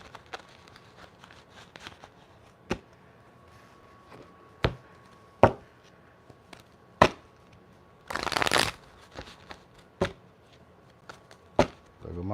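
A deck of tarot cards is handled on a table: scattered sharp taps and slaps recur every second or two, with one dense riffle-shuffle burst partway through, close and crisp over faint background talk.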